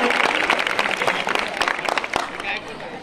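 Applause at a school sports felicitation ceremony in Chikhli honouring successful athletes: a crowd claps in a rapid, uneven patter that is loud at first and thins toward the end, with voices mixed in.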